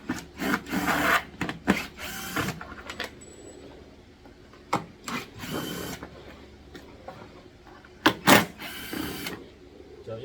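A manual screwdriver loosens screws from the plastic head assembly of a Bohung Cleon commercial car-wash vacuum cleaner. Close, irregular bursts of scraping, creaking and clicking sound on their own, without speech.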